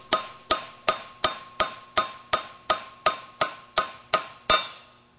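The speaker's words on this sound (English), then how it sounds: "So light, small hits are better than just a few very, very hard hits." Light hammer taps seating a pilot bearing into a rotary engine, about a dozen sharp, evenly spaced metallic strikes roughly every half second, close and clear with a ringing tone, no talking.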